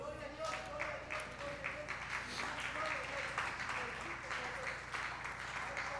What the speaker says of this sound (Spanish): Denle en palmas a Cristo.